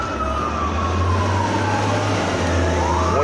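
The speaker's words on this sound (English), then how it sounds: "We're starting the day with siren number 45." An emergency siren wails steadily past, loud and close, its pitch sweeping up and down over low traffic rumble, with no talking.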